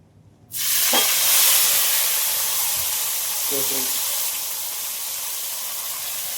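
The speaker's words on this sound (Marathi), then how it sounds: "कांद्याची आणि टमाट्याची भाजून पेस्ट केलेली आहे ती आता गिरवी आपण तेलामध्ये टाकून घेऊ" Roasted onion-tomato paste hits hot oil with curry leaves in a pan for a cashew curry gravy: a sudden loud sizzle that keeps hissing steadily and eases a little toward the end, with a faint clink.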